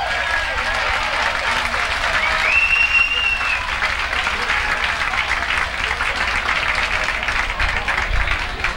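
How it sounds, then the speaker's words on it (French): Sustained audience applause fills a party hall in East Angus in 1989, a dense, steady wash of clapping from a sizable crowd lasting throughout without pause. "J'aimerais qu'on applaudisse beaucoup."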